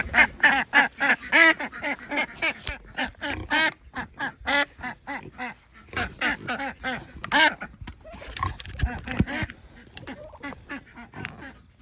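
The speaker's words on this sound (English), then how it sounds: "ducks. You guys are noisy." Several ducks quack loudly and repeatedly nearby, a busy overlapping chorus of honking calls with brief gaps.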